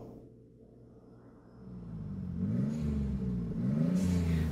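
A car engine idles low, then revs up in rising and falling surges, a deep rumbling growl close by.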